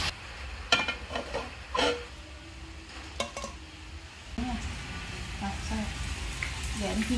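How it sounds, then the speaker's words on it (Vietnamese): Soft tofu, mashed up, stir-fried with seasoning in a home kitchen pan, giving scattered scrapes and clinks of a utensil against the pan over a low sizzle, with people talking throughout. "Cho vô, xào chung luôn."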